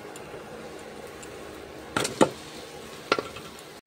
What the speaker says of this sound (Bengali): দিয়ে গ্রেট করে রাখা আলু আর মাছটা আমি এখন কষিয়ে নেব ভালো করে।